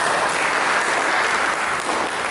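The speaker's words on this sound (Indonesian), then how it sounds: "Berikan tepuk tangan bagi Tuhan." Church congregation clapping for God, a loud, even burst of applause filling the short moment with no talk over it.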